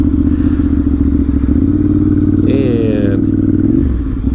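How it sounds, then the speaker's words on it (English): A 2012 Ducati 796 Monster V-twin engine chugs loudly and steadily at low speed, close up, with a brief scrape or clatter midway and no talk. "These V-twins tend to be a little bit more of a, they sort of chug at low speeds."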